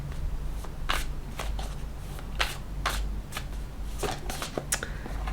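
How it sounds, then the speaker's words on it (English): A deck of playing cards being shuffled by hand, a series of crisp riffling bursts and flicks in an irregular rhythm, close and fairly loud, heard alone without talk. "I don't know why I'm shuffling the cards"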